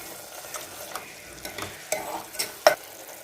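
Masala with a little water is stirred and sautéed in a pan for a Tamil prawn and ridge gourd curry. A soft, constant sizzle runs under scraping stirs that grow louder toward the end, with no talking.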